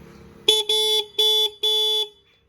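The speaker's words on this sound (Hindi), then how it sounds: "हॉर्न मैं आपको सुना दूँ इस बाइक का" Four loud, close honks of a 2023 Hero HF Deluxe 100cc motorcycle's single horn, a short first beep then three longer blasts in an uneven rhythm, followed by quiet.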